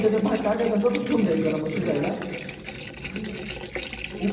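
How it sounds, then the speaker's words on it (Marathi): Water is poured out steadily on a trek up Gorakhgad fort in Thane, Maharashtra, making a continuous rushing splash that eases off halfway, with voices talking underneath. "आता मी टाकतोय टाकू दे पाणी टाकून"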